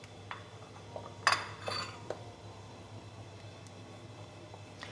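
A spoon stirs custard made with milk and sugar in a pot for a fruit trifle. The sound is faint and quiet, with a few sharp metallic clinks near the middle over a low steady hum.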